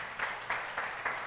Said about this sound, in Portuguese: Pode aplaudir ainda mais ao Senhor Jesus.